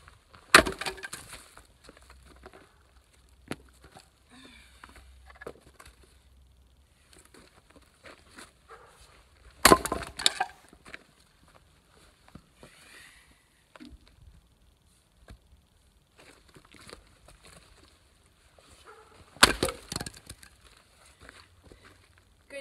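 Firewood is split by hand with an axe or maul, giving three loud sharp cracks several seconds apart, with faint wood clatter and handling sounds in between and no talk.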